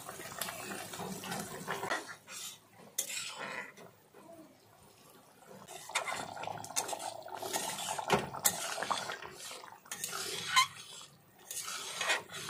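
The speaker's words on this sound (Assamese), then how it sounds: "এতিয়া মই ভাজি ৰখা মিছা মাছখিনি মই দি দিম।" Fried prawns are dropped into bubbling spicy masala in a pan, with clinking utensils, sizzling and stirring clatter in short bursts, close and moderately loud.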